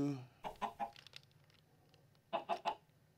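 Chickens in Minecraft with the Crazy Craft modpack clucking in two short bursts of three quick clucks each, fairly close and alone, with near silence between.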